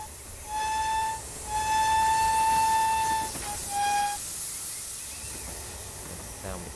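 A large steam locomotive in Train Simulator on the Falmouth branch, its long steady whistle sounding three times over a hissing, rumbling pass, followed by fainter rolling noise.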